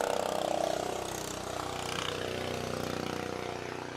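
A loud little moped or small motorcycle passes by with a buzzing, droning engine that holds steady and strong throughout.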